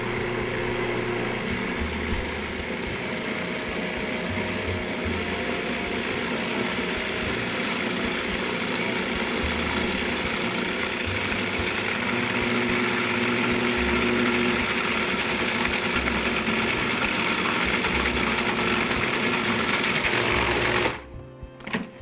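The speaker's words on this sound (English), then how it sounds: "we'll just turn it on and turn that into a wonderful, beautiful pesto" A blender whirs steadily as it purees raw garlic into pesto, a continuous close motor drone lasting about twenty seconds before it cuts off abruptly.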